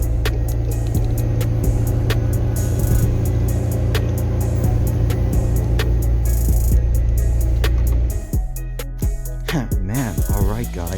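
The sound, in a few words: McLaren 720S Spyder engine during ride-along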